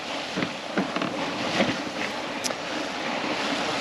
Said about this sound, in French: Et le vent a forci aussi